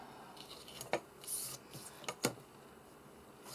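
Scissors snip through paper while cutting journal spine labels, a few short crisp cuts close by at an uneven pace, with faint paper rustling between them.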